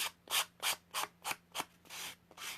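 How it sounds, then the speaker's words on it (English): A sanding block rasps back and forth against folded paper edges of a paper craft in quick, regular strokes, about eight scratchy passes, close and moderately quiet with no talking. "This is just a sanding block, and it just gets rid of those flaggy ends."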